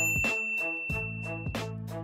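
A notification bell sound effect plays a few clear, bright dings in succession, alone and fairly loud, with ringing tones that sustain briefly between strikes.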